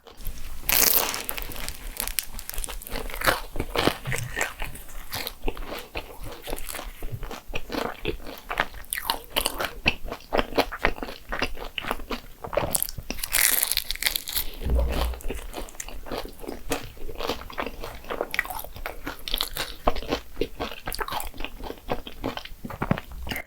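Close crunchy bites and chewing of a crispy almond-topped Portuguese-style egg tart, with repeated sharp crackles and crumbly mouth sounds continuing steadily throughout, no talk over it.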